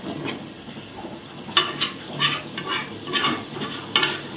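Prawn biryani masala stirred in a pan, with a soft continuous frying sizzle and a few sharper scraping strokes of the spoon at irregular intervals, close and alone.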